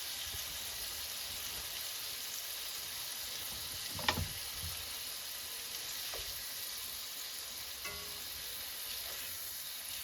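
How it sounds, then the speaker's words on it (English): Food searing in a pan at an ice-fishing campout on frozen water, a steady close sizzle and frying hiss running throughout, with a brief clatter of a utensil stirring or flipping partway. "I'm just going to pan sear those on both sides quickly"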